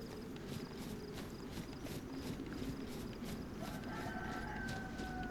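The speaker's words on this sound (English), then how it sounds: "I hear a chicken." Faint chicken clucking comes from somewhere nearby in DayZ, a quiet outdoor game scene, heard under soft footstep-like thuds and low ambient noise.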